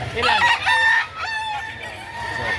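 A rooster crows loudly and close at a chicken market in Lipa, Batangas, one drawn-out call with a raspy, wavering tail over faint background noise.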